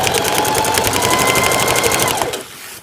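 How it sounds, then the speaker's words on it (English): A sewing machine stitches a circle through very stiff, tough fabric, a steady rapid loud mechanical whirr for over two seconds before stopping abruptly. "now we are ready to actually sew the circle"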